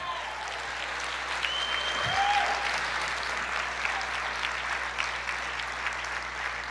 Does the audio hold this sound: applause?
yes